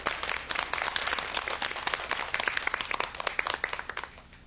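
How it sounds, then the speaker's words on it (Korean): A lecture audience claps briefly during a talk on summer health foods, a dense patter of many hands at moderate distance that stays steady and then thins out toward the end. "한번 박수 한번 치고 이렇게 넘어갑시다."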